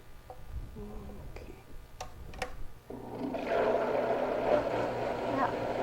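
Crepe batter with half a teaspoon of salt is blended in a bowl; a few light clicks and taps give way to a steady, loud motorized whir that runs continuously to the end.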